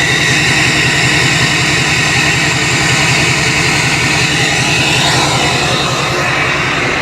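A 2011 Chevy 3500 diesel truck idles with a straight-pipe exhaust, giving a loud, steady, close rumble with a throbbing low-end pulse that holds unbroken throughout, with no talking.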